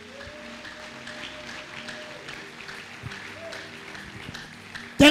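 A church congregation applauds and cheers the Lord during a sermon, with scattered clapping mixed with a preacher's voice and crowd sounds, moderately close and fairly soft, rising sharply at the very end.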